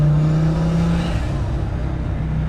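An Audi RS2's nitrous-fed five-cylinder engine drones steadily from inside the car, a loud sustained tone that eases off partway through, with no voices over it.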